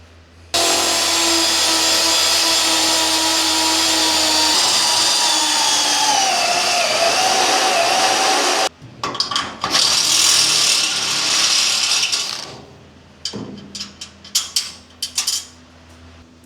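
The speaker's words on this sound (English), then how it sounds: "I'll get some mounting holes drilled up front." A power drill bores mounting holes into a truck bed, one loud sustained run with pitch sagging as the bit bites, then short bursts and clanks of metal handling as the drilling stops.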